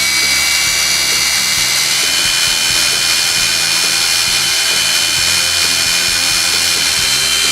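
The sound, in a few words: Hitachi brushed and brushless power tools running under no load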